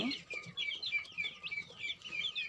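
Duck and chicken chicks peep in a quick run of high, sharp calls close by, repeated chirps overlapping over a few seconds with no talk.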